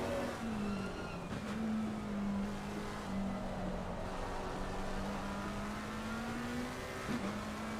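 A GT race car's engine in Assetto Corsa Competizione at the Nürburgring holds a steady high drone with slight pitch wavering as it pulls away, under a continuous, moderately quiet broadband road and wind roar.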